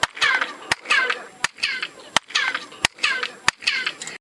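Six sharp handclaps at steady intervals in front of a stepped pyramid, each followed by a chirping, bird-like echo returning from the steps that sweeps downward and fades before the next clap.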